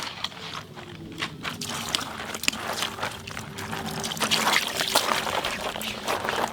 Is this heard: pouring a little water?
yes